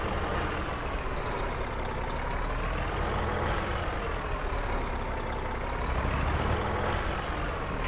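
A heavy truck backing up in a trucking video game, the engine rumbling steadily and loudly throughout with a hiss that could be air brakes, and no voices.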